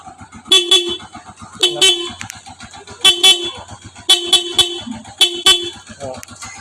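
Short horn beeps from a TMX 125 Alpha motorcycle in several bursts, a pair or cluster at a time, loud and close, with someone talking over and between them.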